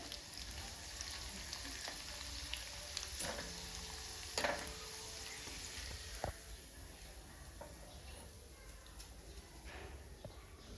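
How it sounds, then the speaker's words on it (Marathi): Shredded potato fries in hot oil for fasting chivda, a dense steady sizzle heard close but at low volume, with a few faint clinks and scrapes and no speech. "इथं आपण बटाट्याचा किस तळून घेऊ आता आपण किस तळून घेऊ थोडा थोडा टाकायचा"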